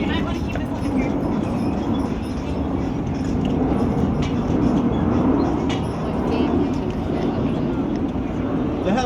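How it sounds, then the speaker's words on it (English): A large Air Force C-17 transport plane flying overhead in Charleston, heard as a steady, loud low roar throughout amid outdoor street noise, with people talking. "That's the big Air Force plane up there."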